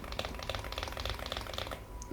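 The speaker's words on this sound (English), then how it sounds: "I'm gonna do a typing test like right now" A keyboard fitted with tactile Aflion Panda switches is typed on in a steady, fast stream of close, dense clacks running continuously over a low background hum.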